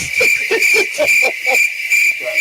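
A cricket chirping sound effect plays as a steady high-pitched trill that runs under pulsing low tones throughout, loud and continuous, with no talking.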